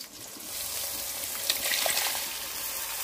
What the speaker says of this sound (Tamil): புளி தண்ணியை ஊற்றியாச்சு.